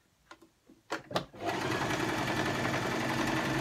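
After a few soft handling taps, a sewing machine starts stitching fur hat pieces and runs loud and steady, with a dense, close mechanical whir to the end.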